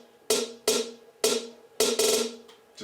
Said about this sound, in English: I add a couple of snare sounds